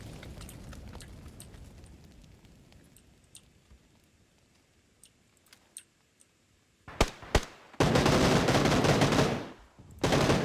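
Gunfire in the battle royale game PUBG: scattered faint distant shots at first, then a few louder close bangs, followed by a sustained loud burst of rapid automatic fire that cuts off briefly and resumes.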